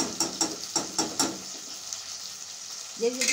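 Okra frying in a pan, with several rhythmic stirring scrapes and sizzling bursts up close, then a quieter steady sizzle; a short voice comes in at the end.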